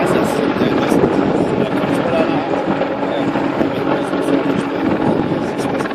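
An Apache AH-64D attack helicopter performs a flying display at an air show, its steady rotor throb and turbine roar filling the air continuously, with a commentator's voice over the loudspeakers.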